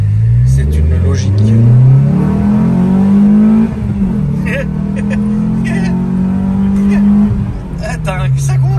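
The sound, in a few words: Renault Twingo rally car engine revving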